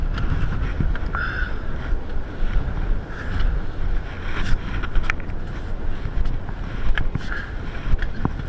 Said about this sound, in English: The wind blew so hard that it turned the deck into a slippery sheet of ice.